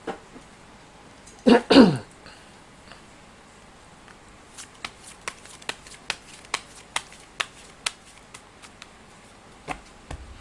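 Fortune-telling cards are handled close by in a quiet room: a brief loud riffle-shuffle burst, then a slow run of soft, crisp single card taps and snaps spaced about half a second apart.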